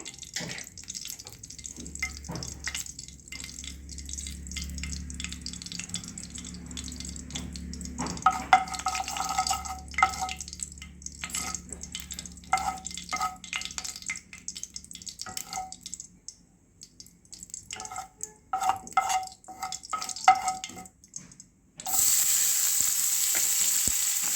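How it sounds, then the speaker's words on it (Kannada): Mustard seeds sizzle and crackle in hot oil in a pan for an Indian tempering while making Kollegala-style kuchhi kadubu, with steady frying hiss, stirring scrapes and small pops close by, and a louder burst near the end. "ನಾನೀಗ ಇದಕ್ಕೆ ಉಳಿದ ಪದಾರ್ಥಗಳನ್ನು ಹಾಕ್ಕೊಂಡು ನಾನು ಫ್ರೈ ಮಾಡ್ತಾ ಇದ್ದೀನಿ ಸಾಸಿವೆ ಹಾಕ್ಕೊಂಡಿದ್ದೀನಿ"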